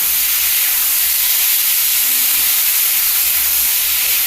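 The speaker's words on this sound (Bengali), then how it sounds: "এবার আমি একটু জলটা সামান্য একটু দিয়ে নিই আলুটা সিদ্ধ হবে" Water poured into a hot pan of potatoes with onion bursts into a loud, continuous steamy hiss that holds evenly for several seconds, close by with no talking.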